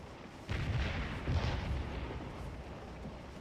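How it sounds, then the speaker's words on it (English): Artillery fire in the Scourge of War video game booms out in heavy low rumbling bursts, one sharp onset followed by a second swell, rolling and echoing in the distance without any talking. "I think a lot of our artillery fire is going in on the Yanks."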